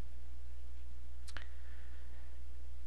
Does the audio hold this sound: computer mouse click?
yes